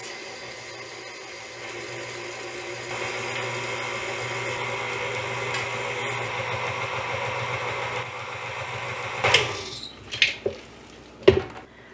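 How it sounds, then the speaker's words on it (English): An electric stand mixer hums steadily on low speed as dry ingredients are spooned into pumpkin whoopie pie batter. Its motor whirs close by, followed by a few sharp knocks and scrapes near the end. "With the mixer on low speed, I'm going to spoon in my dry ingredients."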